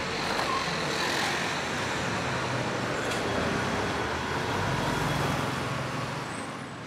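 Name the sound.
heavy city traffic in Shanghai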